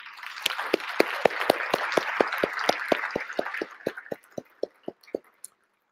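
Conference audience applauding together, a dense burst of many hands clapping that thins out near the end into a few loud, separate, evenly spaced claps.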